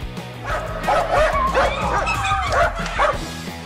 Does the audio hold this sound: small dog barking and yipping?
yes